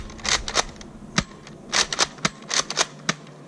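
A Nerf Elite SurgeFire pump-action blaster fires foam darts in quick succession, each shot a sharp plastic snap with pump clacks between, several close, punchy bursts in an irregular rhythm.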